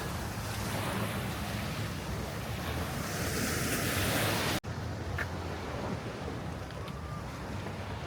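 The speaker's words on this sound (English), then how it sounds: "Made it to the beach." Steady, loud surf breaks continuously on the gravel shore of Alki Beach in Seattle, with heavy wind buffeting the microphone throughout and a brief dropout midway.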